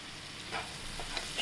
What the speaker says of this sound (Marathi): छान परतून घ्यायचं कढईच्यात पाणी अजिबात नाही टाकणार आहे